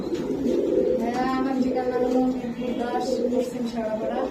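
Pigeons coo in low, repeated throaty calls at a pigeon farm. The calls run steadily and fairly close, mixed with other nearby sound.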